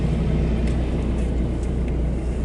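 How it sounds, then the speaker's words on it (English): Road traffic on a morning drive, heard from inside a moving car as a steady, loud low rumble of engines and tyres with no breaks in it. "look at this for traffic first thing in the morning"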